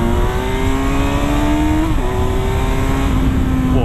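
A Kawasaki Versys 1000 motorcycle with a 120-horsepower engine revs hard while accelerating in third gear. The loud, close engine note climbs steadily, shifts briefly around the midpoint and then keeps rising, with no voices over it.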